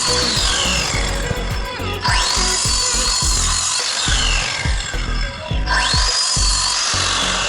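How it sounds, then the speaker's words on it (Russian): An angle grinder with a 230 mm diamond disc grinds loudly through expanded clay concrete block in a continuous, rising and falling whine, with repeated heavy knocks and scraping throughout. "Блоки режу болгаркой, алмазным 230 диском."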